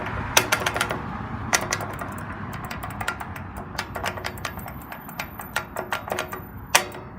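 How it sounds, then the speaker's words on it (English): Sharp repeated clicking from an Econolite crosswalk push button at a street intersection, irregular bursts of crisp taps over soft outdoor background, close and fairly loud. "Another one of the clicky buttons again. Probably from Econolite"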